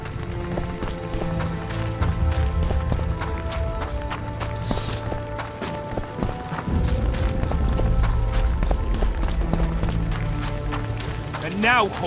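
Hooves clip-clop steadily at a trot in The Witcher 2: Assassins of Kings, layered with a rumbling game soundtrack and ambient effects, while characters speak over it.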